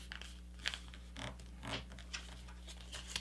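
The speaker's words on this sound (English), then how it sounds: "we're ready to now fold the plane in half, inward like this" A paper airplane is folded in half inward, producing soft crinkles, scrapes and creasing rustles close up, several brief papery bursts with no talking.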